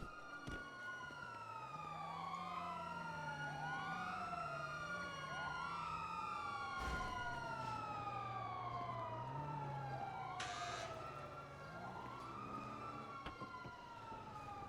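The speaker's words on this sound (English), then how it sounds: "Just lights and sirens and noise." Several emergency sirens wail at once, overlapping rising and falling tones sweeping continuously, fairly distant and steady, with a brief burst of noise partway through.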